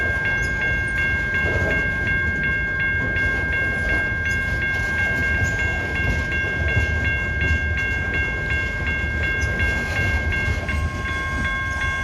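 A loaded coal train bound for a power plant near Louisville, Kentucky rolls steadily past as a continuous rumble, with steady high ringing tones above it for the whole stretch and no voices.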